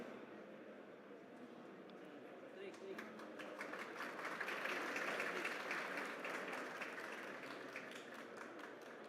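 An audience applauds at a tech hub session, marking a data-management milestone. The clapping is fairly quiet and distant, swells in the middle, then settles into a steady patter.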